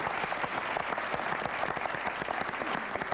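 Dense, steady applause from a studio audience for a game contestant, loud and sustained for the whole stretch with no voices over it.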